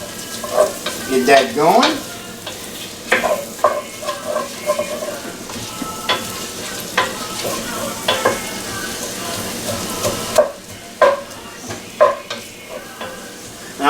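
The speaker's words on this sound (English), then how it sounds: "Go ahead and stir that around a little bit." Chopped vegetables fry and sizzle in hot oil for a shrimp stew while being stirred, with steady crackling broken by scraping stir strokes; a voice speaks briefly over the cooking.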